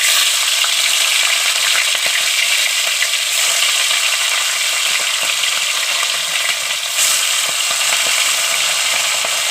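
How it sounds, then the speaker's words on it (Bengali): Fish heads fry in hot oil, a loud, close, continuous sizzle and crackle that holds steady throughout, with no talk. "তো ফাইনালি আমার তেল গরম হয়ে গেছে গা, ওখানে আয়া যাব মাছ।"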